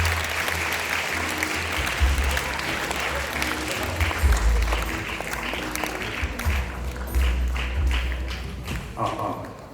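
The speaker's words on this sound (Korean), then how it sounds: "김종우 선생님 박수로 맞이하겠습니다." An audience at a lecture hall claps continuously to welcome a speaker for an independence history talk, dense steady applause with scattered thumps and footsteps, a voice briefly audible beneath it.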